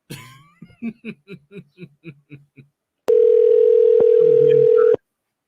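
A call-in radio show's telephone line: a short run of rhythmic pulses, then a loud, steady, flat line tone holding for about two seconds before cutting off abruptly.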